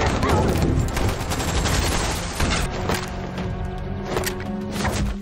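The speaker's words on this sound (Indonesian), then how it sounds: "terjadilah aksi tembak-tembakan" Action movie shootout with dense overlapping gunfire, rapid automatic bursts and heavy booming shots in steady succession, loud and continuous.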